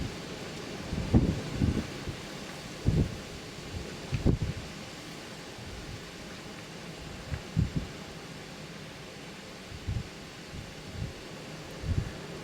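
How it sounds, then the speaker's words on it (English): Wind gusts outdoors in a tobacco field, a steady noisy rush buffeting the microphone with repeated low thumping bursts, fairly faint overall. "Pretty windy."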